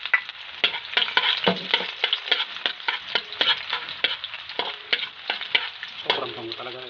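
Garlic sautéing in a pan for paksiw na pata, a steady crackling sizzle punctuated by quick regular scraping strokes of a stirring utensil, close and alone without talk.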